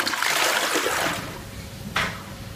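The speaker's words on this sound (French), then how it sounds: "alors je tire la chasse d'eau" A short gush of rushing water with a sharp splash near the end, like a toilet flush, heard close with no talking.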